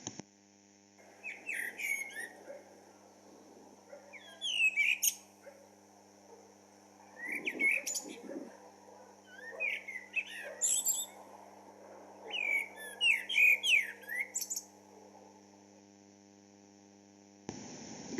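Wild bird song, the species a Messiaen clarinet part imitates: bright chirping phrases repeat in bursts every couple of seconds, fairly faint over a steady electrical hum and background hiss.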